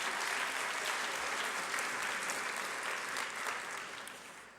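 Audience applause at a ceremony where Senator Gil Cedillo receives the Ohtli Award: sustained, dense clapping from a crowd that runs steadily and then fades toward the end.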